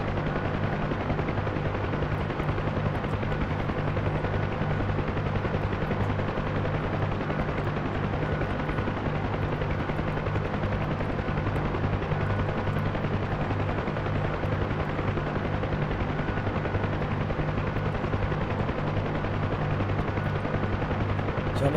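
A helicopter hovers low in ground effect in windy conditions, its rotor producing a loud, steady, close thumping drone with a constant engine whine that never lets up.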